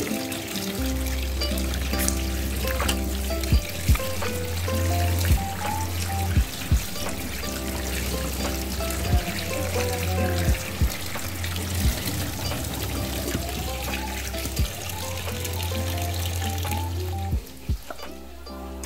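Running tap water pours steadily over cut beef pieces being washed, a continuous close splashing trickle with low hum, briefly broken by handling and stopping near the end.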